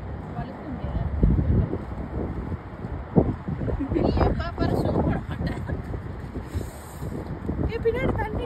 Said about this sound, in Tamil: சரியான காற்று குளிருங்க.